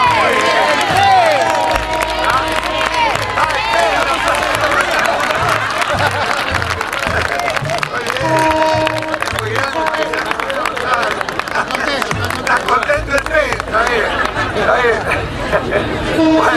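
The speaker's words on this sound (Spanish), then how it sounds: "un aplauso para el camino" A crowd at a bridge inauguration over the San Juan river in Cochagual applauds and cheers among chatter, with a brass band or music playing low tones through the steady, loud, lively din.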